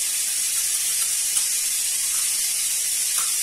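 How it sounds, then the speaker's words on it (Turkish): Food sizzles steadily in a hot pan, a continuous bright crackling hiss with small pops, no voices. "Şöyle tavanın kırımında pişiriyorum."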